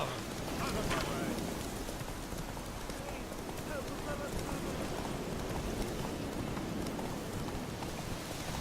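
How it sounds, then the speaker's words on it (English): Steady rain pours down, a dense, continuous wash of drops and patter that stays at an even, fairly loud level throughout with no pauses. "Let it rain."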